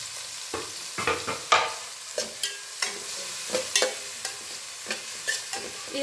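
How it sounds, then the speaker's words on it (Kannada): Onions, green chillies, coriander and mint frying in oil, a low sizzle broken by repeated clattering stirs of a spoon against the pan, close and fairly quiet. "ಈರುಳ್ಳಿ ಬಣ್ಣ ಚೇಂಜ್ ಆಗೋ ತನಕ ಎಣ್ಣೆನಲ್ಲಿ ಈರುಳ್ಳಿನ ಹುರಿಯೋಣ"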